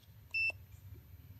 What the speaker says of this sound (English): for continuity, so I can just listen for the beep